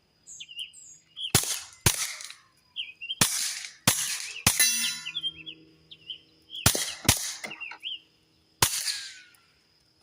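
A Kel-Tec P17 pistol fires subsonic ammo in sharp, separate shots, several of them at irregular gaps and some close together. Birds chirp between the shots, and one shot is followed by a short ringing clatter.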